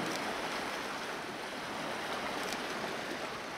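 Ocean waves wash over rocks on a stormy coast in bad weather, a continuous loud broadband rush of surging water with no voices.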